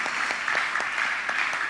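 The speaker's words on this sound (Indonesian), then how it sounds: "Beri tepuk tangan bagi dia." Congregation applause during a church service: a dense, continuous wash of clapping from a crowd, fairly loud and even throughout, with no talking on top.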